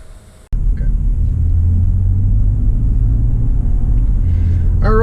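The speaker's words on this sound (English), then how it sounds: "now all that's left is to get it on the road and tell you how it drives" A 2018 Toyota Highlander cruising on the road, with a sudden start into steady low engine and road rumble that holds evenly, heard from inside the cabin with no talk.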